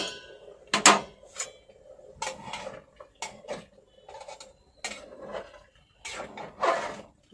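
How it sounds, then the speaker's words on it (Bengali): Spoon stirring chicken rice in a metal pressure cooker pot, a series of sharp close clanks and scrapes coming in irregular bursts with quiet gaps between, no voices. "ভালো করে নাড়াচাড়া করে দিই।"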